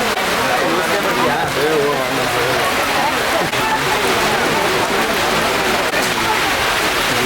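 Rain falls steadily during Diwali over firecracker sellers' stalls, a dense, loud, unbroken wash of patter that runs from start to finish with no pauses.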